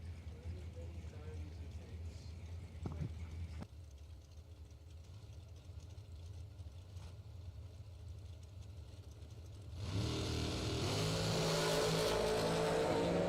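Race cars with Race Tech chassis accelerate on a racetrack at the Numidia 150. A steady engine drone swells into a louder, fuller roar as the cars pass near the end.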